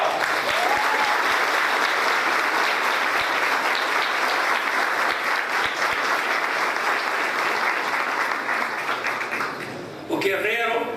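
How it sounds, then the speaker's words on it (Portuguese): An audience in a hall gives sustained, dense applause that stays loud and even for about ten seconds before fading, with a voice starting up at the end. "a quem eu peço mais uma vez uma salva de palmas"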